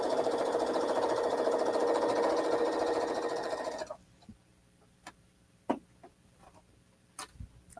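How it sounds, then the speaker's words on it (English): A sewing machine chain-stitches quilt squares with a steady, close mechanical whir for about four seconds, then stops, leaving a few scattered clicks and taps. "And I can just continue with the chain sewing."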